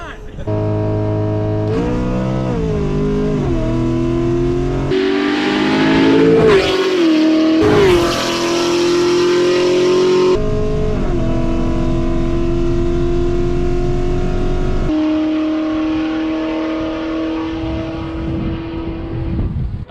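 A Chevrolet Camaro ZL1 engine revs and accelerates loudly, its pitch rising and falling through several gear changes, with a steady engine drone throughout.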